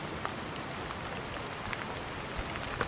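Steady rain falls in cold, wet outdoor weather, a dense even hiss with scattered sharper drops pattering close by and no voices.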